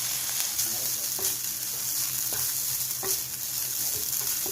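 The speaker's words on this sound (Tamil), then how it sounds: "எண்ணெய் ஊற்றி கடுகு போட்டிருக்கேன். கடுகு பொரியுது." Mustard seeds spluttering in hot oil while making idiyappam produce a steady, close sizzle dotted with quick, irregular pops and crackles.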